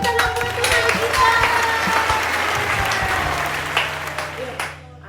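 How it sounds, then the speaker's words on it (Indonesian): Applause and scattered cheers from a children's online church service audience fill the space, a dense steady patter that carries on under faint background music before tapering off abruptly at the end. "kasih tepuk tangan buat Tuhan kita"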